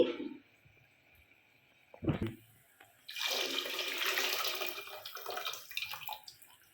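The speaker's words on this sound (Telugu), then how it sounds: "నేను నాలుగు లోటాలు నీళ్ళు వేసుకుంటున్నానండి రసంకి" Water poured into a pot of tamarind and tomato rasam, a steady broad splashing pour lasting several seconds after a brief clatter and quieter start.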